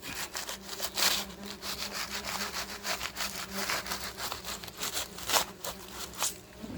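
Part of a wall holding a hidden wasp nest is cut out, giving steady back-and-forth rasping sawing strokes through wall material, close and moderately loud, with no talking.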